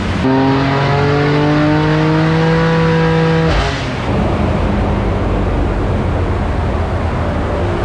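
A loud BMW M2 CS engine on a dyno holds a high, steady rev for a few seconds, then cuts off, leaving a rumbling, whooshing roar of fans and machinery.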